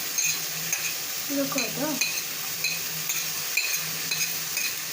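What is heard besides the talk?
frying food in a pan for bhelpuri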